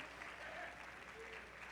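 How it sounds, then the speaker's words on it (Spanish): A church congregation applauds together in a worship service, a steady, fairly quiet wash of clapping that fills the whole stretch without a clear break. "le damos un aplauso al Señor"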